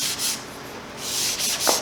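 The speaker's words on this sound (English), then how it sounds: "I'm going to go ahead and sand this a little bit now before I cut the hole." Sandpaper rubbing back and forth over a wooden panel gauge part before a hole is cut, making close, steady scratchy strokes with short pauses between passes.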